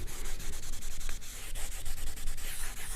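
Baby wipes rubbed over painted household walls make a close, rapid, rhythmic scrubbing and swishing with steady back-and-forth strokes and no talk.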